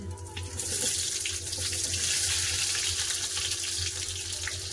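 Chopped onion hits hot oil while cooking matar paneer. After a short quiet moment, a loud, continuous hissing sizzle starts and stays steady to the end.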